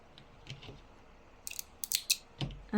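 Scissors snip through crochet yarn in a few quick, close, crisp cuts after some soft handling noises, with no talking.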